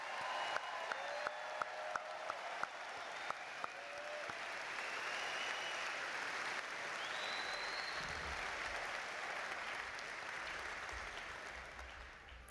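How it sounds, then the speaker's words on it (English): Applause for graduates at a 2025 spring university commencement ceremony in Wisconsin, opening with a few distinct claps before swelling into a steady, sustained wash of clapping that stays fairly distant and soft throughout. "Let's have one more round of applause for our 2025 graduates."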